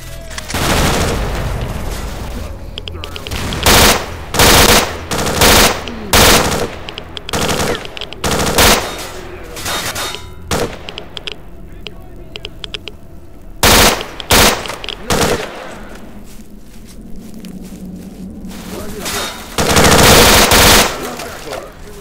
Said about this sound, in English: Who has the balls to shoot the marked one?